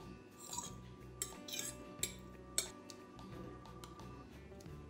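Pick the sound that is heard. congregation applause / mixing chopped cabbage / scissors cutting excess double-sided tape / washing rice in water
mixing chopped cabbage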